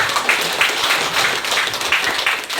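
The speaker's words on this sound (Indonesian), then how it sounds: "tepuk tangan buat kita semua" Clapping from a gathering at a primary school parents' association event, a steady, moderately distant patter of many hands sustained for a few seconds with no voices over it.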